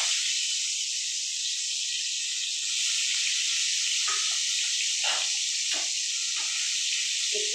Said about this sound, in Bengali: আলুগুলো অল্প ভেজে নেবো